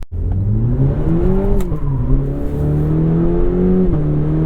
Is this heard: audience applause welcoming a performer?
no